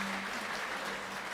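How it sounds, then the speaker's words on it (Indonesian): Wedding guests applaud the newly married couple at a church marriage blessing ceremony, a steady, dense wash of clapping that fills the whole moment without pause. "Tepuk tangan Bapak Ibu untuk pengantin yang baru."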